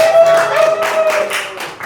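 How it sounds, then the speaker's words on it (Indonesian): An audience at a Funky Talks show bursting into applause, a short, loud flurry of many clapping hands over a held musical tone, tapering off at the end. "tepuk tangan dulu"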